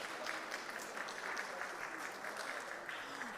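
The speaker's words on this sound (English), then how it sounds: "Please applaud yourselves." Applause from a summit audience, a steady dense wash of many hands clapping, heard from a distance and fairly quiet, continuing evenly without a break.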